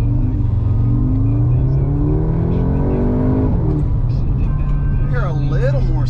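An Audi S3 8Y with a resonator-delete exhaust pulls away from a stop, the engine drone rising in pitch through the gears, steady and close from inside the car, with a voice speaking partway through.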